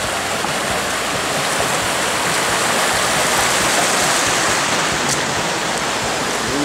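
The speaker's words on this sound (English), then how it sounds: "the water here, this is all straight from the spring" Clean spring water rushing steadily over lime deposits at Havasupai, a loud, continuous broadband roar like a small waterfall, close up with no break.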